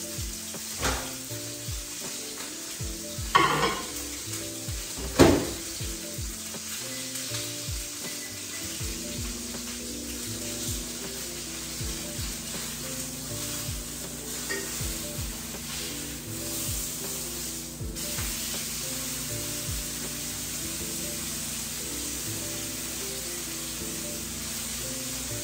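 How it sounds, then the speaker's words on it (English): Food sears and sizzles in a hot pan, a steady close hiss with a few sharper pops and stirring scrapes early on, continuing alone without any talk. "As that sear begins"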